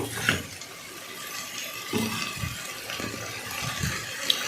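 Water pours into a pan of kurma masala while it cooks, a short gushing and splashing spell with faint clinks; no talking.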